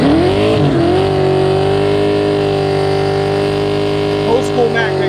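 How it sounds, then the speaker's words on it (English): Race car with an old-school Mac 3-inch exhaust idling steadily and loud up close, its fuel pump running in the mix as a continuous drone for about five seconds, with a brief blip near the end. "You hear that damn fuel pump, man?"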